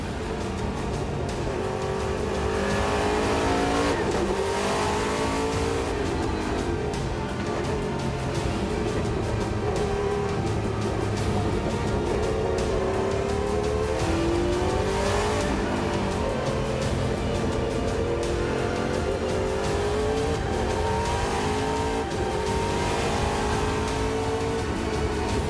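Historic race cars, including a Jaguar XJR-14, Porsche 962s and a Mercedes C11, scream around the Spa circuit in a continuous loud engine roar, revs rising and falling as cars pass one after another.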